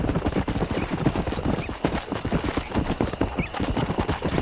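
Horse hooves clip-clop in a rapid galloping rhythm in Red Dead Redemption, loud and continuous, with faint game ambience and no speech.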